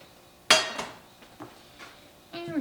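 Graham crackers, sugar and melted butter are stirred in a mixing bowl, with a sharp utensil clink against the bowl followed by a few lighter, scattered taps and scrapes.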